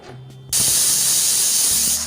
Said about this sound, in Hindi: 3-4 सीटी आ गई हैं तो गैस बंद कर देंगे और कुकर का प्रेशर खत्म होने देंगे।